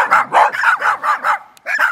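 Dogs kept by soldiers at a frontline military position bark loudly and close, about seven sharp barks in a quick, fairly even rhythm with a brief pause before the last two, and no one speaking.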